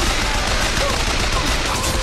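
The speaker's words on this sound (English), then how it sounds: "Oh, explosion." Dense, loud rumbling explosion in BioShock Infinite filling the whole clip, a continuous roar of debris and crackle without clear separate shots.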